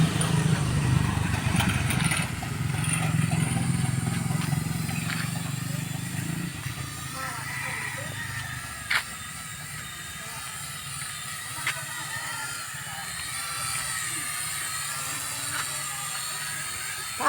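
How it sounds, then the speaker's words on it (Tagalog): A small hobby drone flies overhead outdoors, its steady motor hum running continuously at moderate distance, with people chatting and calling out over it throughout. "Ayun ang drone ni Ading"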